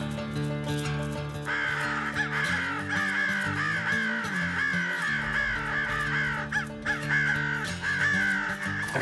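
Crows cawing during a public land crow hunt: loud, close, repeated harsh caws overlap one another almost continuously, with no talking.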